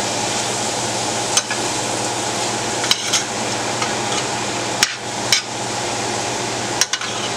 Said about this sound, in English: Just mix it all up, stir it up well.